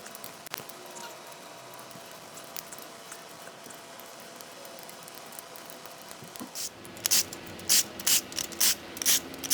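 A ratchet loosens camshaft caps on a Lexus LS460 1UR 4.6L V8 engine, its close clicking pawl heard first in light ticks, then in loud bursts of quick ratcheting strokes toward the end.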